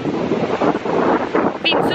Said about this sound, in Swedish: För det är så blåsigt